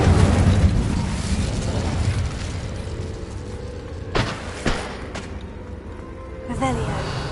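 A fire spell cast in Hogwarts Legacy, a few sharp bursts of flame over steady game ambience, with a voice talking underneath.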